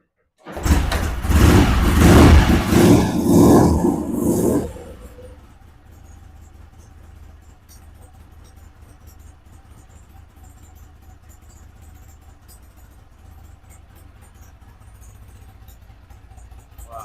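Norton motorcycle engine blips loudly up close for a few seconds, then settles into a steady, quieter low idle that runs on evenly to the end.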